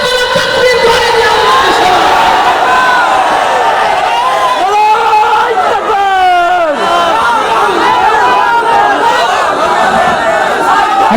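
A large rally crowd shouts takbir together, a loud chanting roar of many voices that swells and rises in waves, mixed with chatter and cheering.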